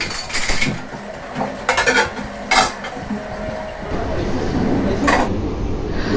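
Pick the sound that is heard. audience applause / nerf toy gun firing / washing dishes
washing dishes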